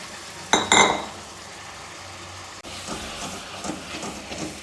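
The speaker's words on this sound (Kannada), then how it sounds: "ಒಂದು ಬಾಣಲಿ ಇಟ್ಕೊಂಡು ಎಣ್ಣೆ ಕಾಯ್ತಾ ಇದೆ. ಈಗ ಈ ಮಸಾಲೆ ಹಾಕ್ಕೊಂಬಿಡೋಣ." Masala goes into hot oil in a kadai: a short clattering burst as it lands, then a steady, moderately loud sizzling hiss that carries on to the end.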